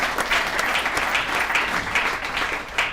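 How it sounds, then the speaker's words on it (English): A meeting audience bursts into applause, dense and continuous clapping filling the room for a few seconds, close and fairly loud with no talk over it. "let's give Andrew another round of applause."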